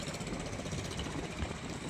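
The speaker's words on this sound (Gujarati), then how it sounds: "એક્ટિવાનું ઇન્જિન લાગે મને તો" Small scooter engine resembling a Honda Activa runs steadily nearby, a continuous even hum and rattle with no talk.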